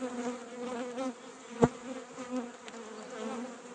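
Honey bees buzz continuously while being fed more stores at the hive, a close, wavering drone with a single sharp knock partway through and no talk.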